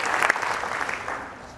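Keynote audience breaking into applause, a dense wash of many hands clapping at once, strong at first and then thinning and fading over under two seconds.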